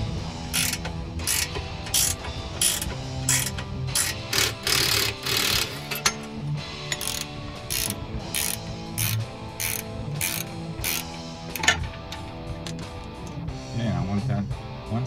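Ratchet wrench taking a nut off a bolt during a Camaro trailing arm install, with rapid repeated clicking bursts in uneven runs, close and fairly loud, with occasional metallic clanks.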